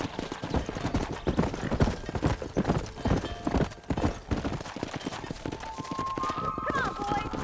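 Rapid hoofbeats of a galloping horse in the video game Red Dead Redemption pound steadily throughout, with voices talking over the running hooves.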